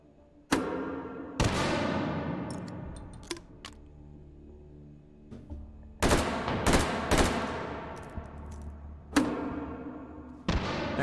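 A mortar fires repeatedly in the H3VR video game, sharp loud booming blasts at irregular intervals, each followed by a long ringing decay, with faint metallic clicks between shots.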